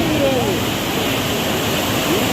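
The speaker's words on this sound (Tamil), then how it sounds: "நம்ம பேசினோம்னா அந்த தண்ணியினுடைய இறைச்சலை வந்து நம்ம ரசிக்க முடியாது." The Thamirabarani river at Sri Vaikuntam roars as a loud, unbroken rush of water, with faint voices mixed into the steady noise.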